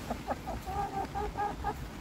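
A chicken clucks in a series of short, clear calls about five or six times over two seconds, heard close up inside a newly built wooden coop set up in a cupboard.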